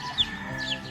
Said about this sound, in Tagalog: Naligaw yung isang manok.